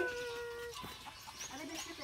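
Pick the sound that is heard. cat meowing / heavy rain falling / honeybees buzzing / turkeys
turkeys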